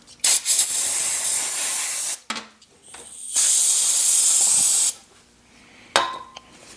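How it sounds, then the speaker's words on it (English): An aerosol can of brake cleaner hisses in two long, loud sprays, each about two seconds, with short pauses and a faint clatter between them, during a front brake job on a 2015 Toyota RAV4. "I got just a can of brake cleaner, and I'm going to spray and clean that off."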